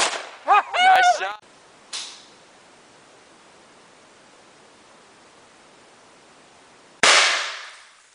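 A subsonic .22 LR Aguila round is fired: a voice speaks briefly at first, then a soft crack comes, and after a long quiet stretch a second, sharper shot rings out close by and fades quickly.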